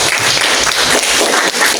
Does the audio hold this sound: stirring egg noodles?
no